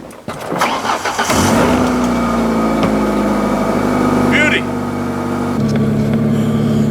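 A car engine, freshly swapped, cranks over and catches, then settles into a steady, smooth idle up close, with a brief rev partway through; a voice speaks faintly over the running engine.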